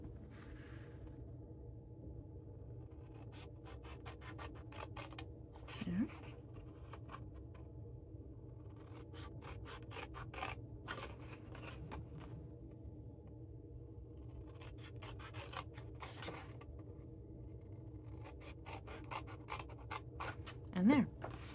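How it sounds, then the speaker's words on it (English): Snips cut flaps on a paper basket, making scattered short crisp snipping and scratching bursts over a quiet low hum, close by and fairly soft, with occasional louder bumps. "Okay, then all you need to do is trim a couple flaps."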